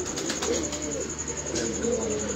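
Pigeons coo in a repeated, soft rolling pattern, a few birds close by with a faint steady background hum, and a voice murmurs briefly underneath.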